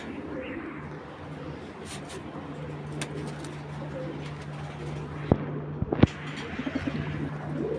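A big male racing pigeon coos among other pigeons, low murmuring calls over a busy loft hum, with a few sharp clicks and taps near the end.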